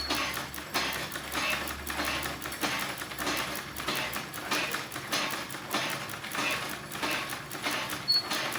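A sewing machine winds thread onto its bobbin with a fast, steady mechanical whir and a regular rhythmic ticking, close and continuous throughout, with no talking.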